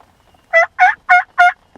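A wild turkey gobbles four times in quick succession during a hunt, each call loud, close and rattling, with near silence between them.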